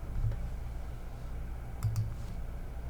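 A computer mouse clicks twice in quick succession, followed a moment later by another brief pair of clicks, crisp and close over a steady low hum.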